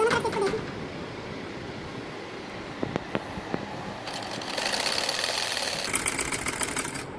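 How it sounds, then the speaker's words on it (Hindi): A sewing machine stitching fabric strips for a jali poncha design, quiet at first, then a sustained, rapid whirring stitch run near the end, close and moderately loud. "चलिए अब हम इसको सिलाई लगाते हैं"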